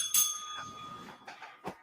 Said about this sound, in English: Bell. Yes.